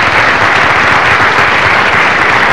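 Audience at a comedy show breaking into loud, dense applause, a thick unbroken roar of many hands clapping right up close for the whole stretch.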